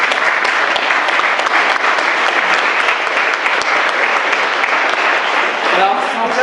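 Sustained audience applause at a public reading event, a thick, steady wash of clapping close and loud with faint voices mixed in.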